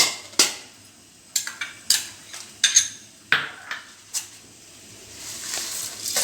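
Dried chilies, rice, chana dal, fenugreek, peppercorns, coriander seeds and coconut pieces are dry roasted in a pan. A spoon clinks and scrapes against the metal in sharp, uneven knocks, with a faint rustle between them.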